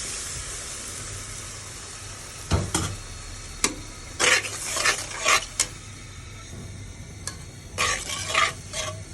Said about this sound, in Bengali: আমি ডালটা ভিজিয়ে রেখেছিলাম, এখন আমি কষাবো